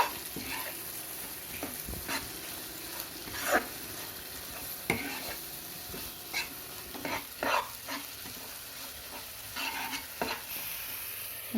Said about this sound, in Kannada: ಇದು ಹಸಿ ಮಸಾಲ ಆಗಿರೋದ್ರಿಂದ ಎಣ್ಣೆಲಿ ಚೆನ್ನಾಗಿ ಫ್ರೈ ಆಗಬೇಕು